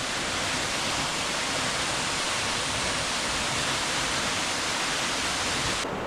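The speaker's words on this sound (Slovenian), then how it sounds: "Še en neverjeten skrit slap na mrzlem potoku v Posočju." A hidden waterfall on the Mrzli potok stream in Posočje, Slovenia, roaring as a loud, steady, broadband rush of falling water heard close up and unchanging throughout, with no voices.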